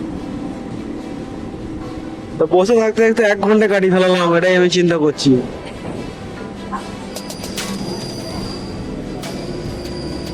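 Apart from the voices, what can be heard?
train passing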